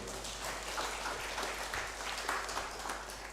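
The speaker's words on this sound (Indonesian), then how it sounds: "tepuk tangan johita untuk lansia" A church congregation applauding its elderly members during a Sunday service, a steady, even wash of clapping from many hands that holds for the whole stretch, with no voices heard.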